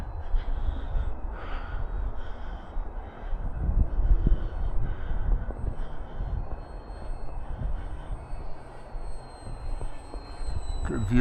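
An FMS Ranger 1220mm RC plane on floats flies over snow on a windy day, its faint, distant electric motor whine mostly buried under steady gusting wind noise, rising slightly near the end.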